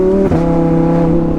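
A Lamborghini Huracan LP-610 accelerates hard, its engine note climbing loud and close before a quick upshift briefly cuts it, then pulling again with a strong, steady harmonic drone.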